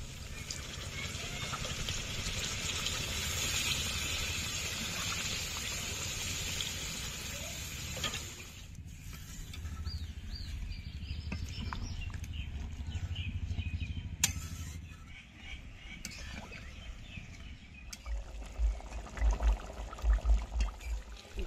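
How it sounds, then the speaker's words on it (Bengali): Water pours into a pot of browned chicken curry, a steady splashing trickle up close that thins out midway, followed by a few clinks and light knocks near the end. "জল দিয়ে দেবো।"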